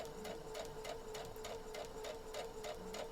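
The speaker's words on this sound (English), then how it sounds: "there is something about using a sewing machine" A sewing machine runs, stitching T-shirts for a T-shirt quilt, with a steady, quick, regular ticking stitch rhythm over a constant motor hum, quiet and close with no talk.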